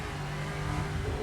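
A Lexus GT3 race car in the Assetto Corsa racing game drives out of a corner under acceleration. Its engine holds a steady, buzzing drone at moderate volume with no voices over it.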